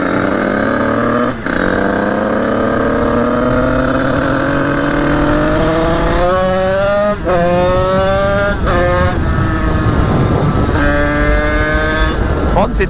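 Honda HM 86 motorcycle being ridden, its engine loud and close with rising revs, repeated gear changes and brief throttle lifts, running continuously under a voice speaking.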